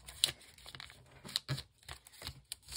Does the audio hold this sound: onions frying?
no